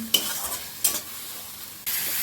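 Noodles and long beans are stirred in a frying pan, with three distinct scraping stirs over a soft sizzle, each one sharp and close, and no talking.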